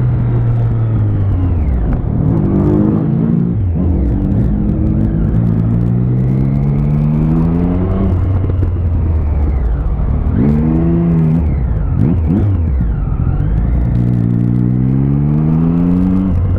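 A motorcycle accelerates hard on a road, its engine note climbing and falling through repeated gear changes, loud and close over a steady wind-rush rumble.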